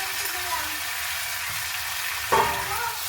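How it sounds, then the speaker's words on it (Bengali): Soybean crumbs and grated potatoes being sautéed in masala, giving a steady, even frying sizzle throughout with a brief sharper stir or clatter near the end. "এবার খুব ভালো মতো করে আমি একটু কষিয়ে নেবো"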